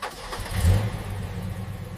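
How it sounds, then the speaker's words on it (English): A car engine cranks and catches, with a low rumbling surge around the start that settles into a steady idle hum, close and clear with no talking. "I start the engine."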